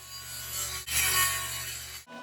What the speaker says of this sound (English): moved over to the table saw to begin cross-cutting this guy